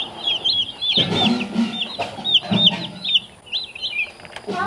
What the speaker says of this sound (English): we now have, come along, 105 little Cornish cross chicks.